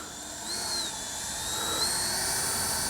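A Kavan Skyfox L-39 80mm RC jet with a KM model afterburner fan flies at a distance, giving a faint steady high-pitched whine with a slight rising and falling pitch sweep.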